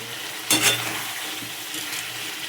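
Spices sizzling in a pan for khichuri with potato and cauliflower, a steady close fry with a sharp burst of stirring and scraping early on, then the hiss continuing alone.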